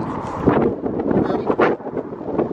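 Strong wind buffets the microphone in loud, uneven gusts, a rough, continuous rumble with no clear voices.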